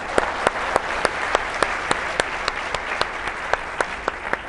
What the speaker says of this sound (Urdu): پھر تالیاں